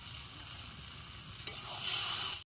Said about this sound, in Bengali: সবজিটা একটু এক জায়গায় নেড়ে চেড়ে নিয়ে লাগিয়ে নেব